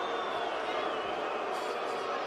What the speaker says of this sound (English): Crowd getting a little bit testy here